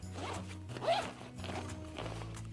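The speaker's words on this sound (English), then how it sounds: "Just unzip the main compartment" A zipper is pulled open along the main compartment of a hiking backpack in several short, close strokes with brief pauses between them. No voice is heard.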